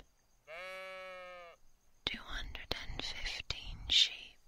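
A single sustained sheep-like baa, voiced as an imitation, rises clearly for about a second from near silence, followed by soft, close whispering with breathy hisses.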